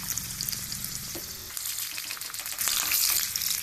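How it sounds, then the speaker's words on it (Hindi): Chopped ginger and green chillies hit hot oil for a tempering for Amritsari pindi chole, giving a steady close sizzle that swells louder near the end, with no talking. "ऑयल हमारा गर्म हो गया है। अब हम इसमें कटा हुआ अदरक और हरी मिर्च डाल देते हैं।"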